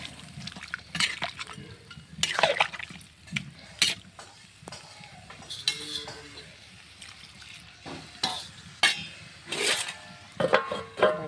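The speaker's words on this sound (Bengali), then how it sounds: "এখন আমি একটু পানি দিয়ে দেবো" Water poured into a pot of simmering goat meat curry with red gravy gives close, intermittent splashes and liquid bursts, mixed with stirring scrapes at a moderate level.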